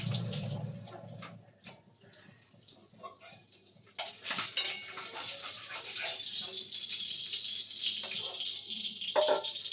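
Tap water runs steadily as hands are washed in a home kitchen during cooking, a close, continuous splashing stream that grows fuller midway, with faint background sounds and no talk.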